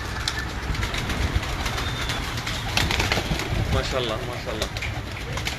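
Breeder pigeons are released together and coo steadily, with some wing flutter, close by and fairly loud, while someone speaks briefly over the birds.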